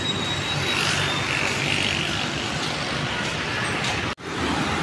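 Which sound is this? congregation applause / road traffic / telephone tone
road traffic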